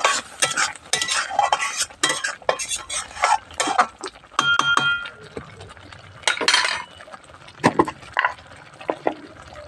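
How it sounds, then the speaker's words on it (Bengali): Spoon stirring butter into butter paneer masala in a pan, giving repeated scraping and clinking strokes against the metal with a faint sizzle, close and fairly loud, with no voice over it. "এবার উপর থেকে আরও কিছুটা বাটার আমি দিয়ে দেবো নাড়াচাড়া দিয়ে দিলাম"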